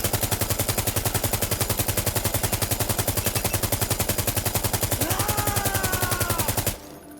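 An automatic rifle fires a long, rapid, evenly spaced burst in the tactical shooter game Insurgency: Sandstorm, loud and close, stopping abruptly near the end.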